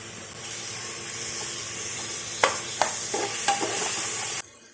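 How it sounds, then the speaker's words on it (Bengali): Onions and chopped tomatoes frying in a pan for a chicken curry, a steady sizzle with several sharp spoon scrapes and stirring knocks in the second half, cutting off near the end. "পেঁয়াজটা হালকা ভাজা হয়ে গিয়েছে এরপর আমি দিয়ে দেবো কেটে রাখা টমেটোগুলো"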